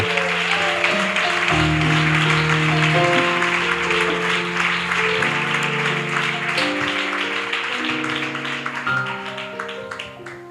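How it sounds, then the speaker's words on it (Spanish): Church congregation applauding during a sermon, clapping blended under loud sustained music with organ-like chords, the claps a dense rhythmic texture that runs steadily throughout and fades slightly at the end. "Dale un fuerte aplauso al Señor."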